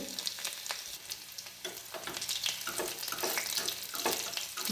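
Coarsely crushed garlic dropped into hot oil for a fenugreek curry tempering, a close, bright crackling sizzle with sputtering pops that steadily builds over a few seconds, with no voices.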